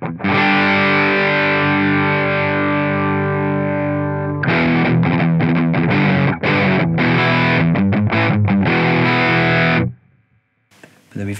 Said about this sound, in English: Also got a triple rectifier if you want some heavier tones.